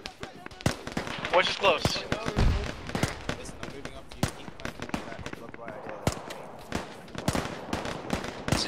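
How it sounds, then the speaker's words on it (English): Gunfire in the ArmA 3 military shooter game: many sharp cracks and pops at irregular intervals, some near and loud and others more distant, with voices talking over them. "That's a lot of shots to not actually be fucking at us."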